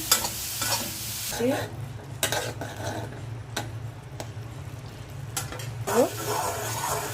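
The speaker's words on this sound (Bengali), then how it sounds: "লাল শাক ভেজে নিলাম" Red amaranth leaves fry in a pan with a steady low sizzle, broken by several sharp spatula scrapes and stirs against the metal, close and moderately loud.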